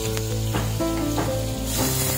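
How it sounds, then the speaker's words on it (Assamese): Cumin, raw green chili and onion fry in oil in a wok, a loud, close sizzle with stirring clatter and a bright hiss rising near the end. "অলপ জিৰা দিছো আৰু কেঁচা জলকীয়া পিঁয়াজ তেলত দি দিছো অলপ লৰাই চৰাই ভাজি লওঁ"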